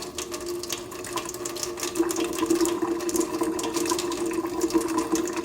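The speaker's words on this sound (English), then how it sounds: "So you put a little bit of water in, a little bit of soap in, and then you just spin it around." Water and soap are swirled inside a glass test tube in a lab, producing a steady rapid rattling and sloshing with a sustained tonal hum, loud and close, with no talking.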